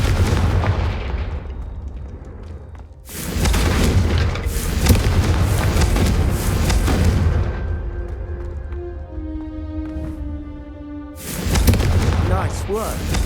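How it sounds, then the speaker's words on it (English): Confringo fire spell blasts hitting targets in Hogwarts Legacy, heavy booming bursts in two loud clusters separated by a quieter stretch where a voice speaks. "Confringo cast travels a bit farther than that of a spell like Incendio"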